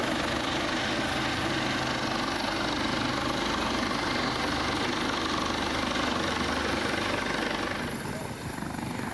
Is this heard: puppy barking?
no